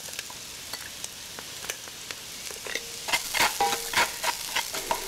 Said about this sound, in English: And now it's time for me to saute my vegetables here. First to come in would be my 1 thumb of finely minced ginger.